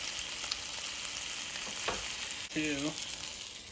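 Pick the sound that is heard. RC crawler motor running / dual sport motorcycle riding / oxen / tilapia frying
tilapia frying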